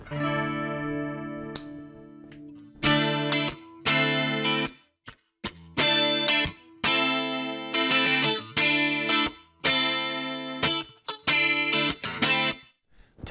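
Heavily distorted 80s-style electric guitar chords through a Line 6 AMPLIFi practice amp ring out in repeated bursts with brief gaps, loud and up close, layered with thick effects.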